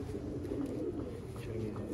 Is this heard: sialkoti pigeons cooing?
yes